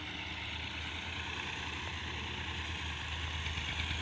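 A tractor engine idles steadily at a low, even rumble on village farmland, a constant drone with no break and no voices.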